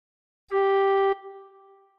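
One steady, clear tin whistle note is held for about half a second, then stops, leaving a soft reverberant tail.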